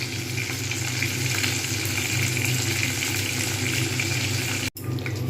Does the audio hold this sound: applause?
no